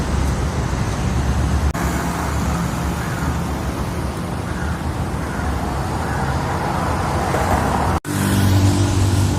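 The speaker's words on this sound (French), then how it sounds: "Il y a des camions un peu partout qui sont en mouvement." Dense street traffic in Kuala Lumpur with trucks moving about, a steady close roar of engines and tyres that holds throughout, broken by a brief drop near the end.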